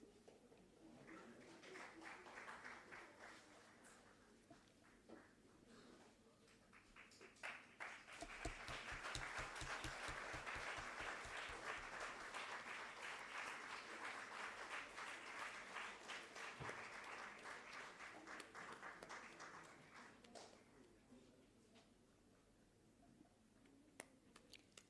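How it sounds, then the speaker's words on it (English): Sustained audience applause at a university silver jubilee alumni meet, honouring a department chairperson; dense clapping swells around the middle, holds steady for several seconds, then thins out toward the end. "Let's keep the applause going,"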